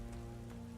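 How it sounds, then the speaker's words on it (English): Steady rain pours down in the video game NIKKE, a dense, even wash of falling water with no voices, brief and continuous throughout. "Rain starts to pour from the sky."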